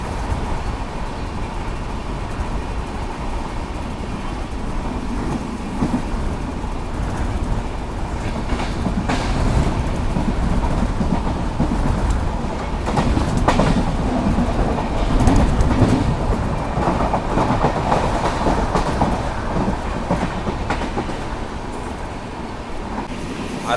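An express train rolling on rails near Mandapam on the Rameswaram line, with a steady, loud rumble and rhythmic clickety-clack of wheels over rail joints heard continuously from inside the carriage.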